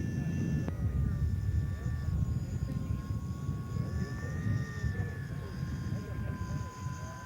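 An electric scale model aircraft flies at the U.S. Scale Masters Championships, giving a steady whining motor hum over outdoor background noise, while a voice speaks over it.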